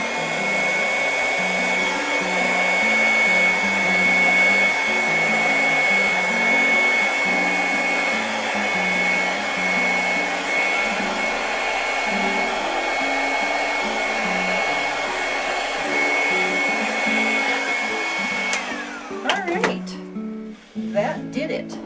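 A hair dryer blows steadily and loudly with a constant whine for most of the stretch, then cuts off near the end, followed by handling noises; someone talks over it.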